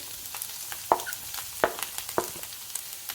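Onion is tipped into a pan of cooking ground beef, giving a soft sizzle with several sharp clacks of a utensil scraping and stirring at irregular intervals, no voices.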